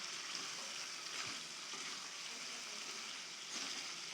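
Fried chicken stirred into masala in a pan for a desi chicken curry, a steady soft sizzle with faint scraping of the spoon, fairly quiet and close.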